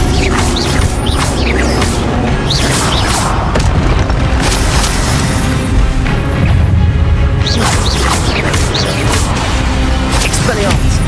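Spell impacts in the Hogwarts Legacy video game land as loud booms, crashes and whooshes in quick succession, with a voice calling out spell names throughout.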